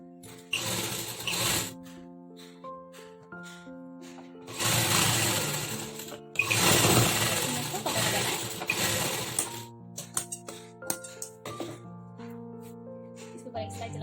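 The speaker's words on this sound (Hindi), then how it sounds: "इसके ऊपर एक सिलाई चलानी है" A sewing machine stitching a blouse sleeve seam runs in several bursts, a dense whirring rattle starting and stopping, with a voice talking in the quiet gaps and music beneath.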